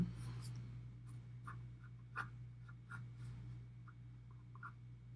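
A pencil strokes across paper while a dock scene is being drawn, giving soft, scratchy marks in short irregular bursts that come and go. A low steady hum sits underneath, and no one speaks.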